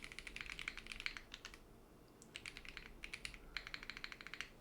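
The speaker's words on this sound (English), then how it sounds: "Okay, let's go to some monkey typing." Rapid bursts of clicky keystrokes from a Cherry MX Blue mechanical keyboard, fairly close, in three runs separated by short pauses, with no talking.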